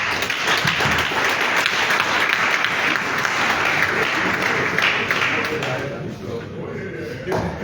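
An audience at an official plan launch event claps for its director general, a loud, dense patter of many hands with a few thumps that thins and fades near the end.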